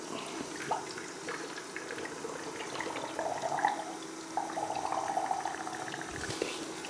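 Water is poured into the tank of a KOZ-E CoolSleep mattress cooler, making a steady, close splashing trickle with small gurgling swells throughout.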